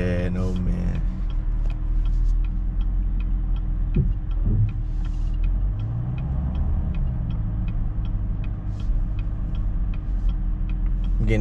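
Bright red Chevrolet Camaro ZL1 engine downshifting on the road, a steady low throbbing rumble with pitch sweeps as revs blip and drop, close and continuous, with a faint regular ticking over it.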